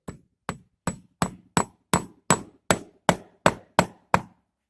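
Gimp pins hammered one after another into upholstery trim along a furniture frame: eleven sharp, close taps in a steady rhythm, each with a brief ringing decay, with no voices.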